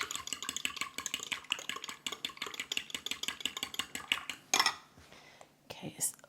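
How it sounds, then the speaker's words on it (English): A whisk or fork beats a quiche filling of eggs and half and half in a bowl, giving rapid, steady metallic clinks against the dish. The clinking is close and fairly quiet, then breaks off near the end with a few softer scrapes. "Mix it up really well."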